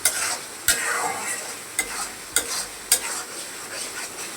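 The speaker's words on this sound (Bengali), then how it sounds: "গুঁড়ামরিচ দেওয়ার পরে আমি সুন্দর করে মশলাগুলো কষিয়ে নিব" Spices with chili powder stir-fry in a pan for a Bangladeshi egg bhuna, a soft sizzle broken by sharp, regular scrapes of a spatula about every half second, with no voices.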